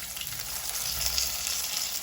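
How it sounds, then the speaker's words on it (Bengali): Potatoes frying in hot oil for a beef curry, giving a steady, soft hiss and crackle that holds evenly throughout at a fairly low level, with no talking. "আলুগুলো আমার ভাজা হয়ে গেছে, আলুগুলো এখন আমি তেল থেকে উঠায় ফেলবো।"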